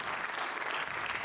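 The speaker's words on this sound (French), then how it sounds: "Vous pouvez vous applaudir." Conference audience in Strasbourg applauding, a dense, steady wash of clapping from many hands filling the whole moment, close and even in loudness with no voices above it.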